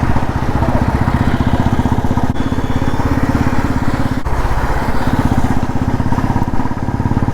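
A Pulsar NS motorcycle engine idles close by, loud and continuous with a steady, even throb and a couple of brief clunks, no voices over it.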